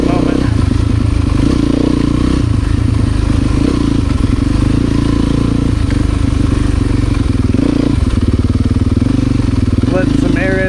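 Enduro motorcycle ridden on dirt trails, its engine droning loud and steady throughout with a dense low rumble, clattering and occasional revs, no pauses.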